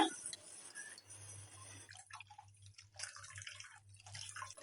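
Water is poured into a pot of Agri-style bombil fish curry, a faint trickling pour broken by small drips and splashes.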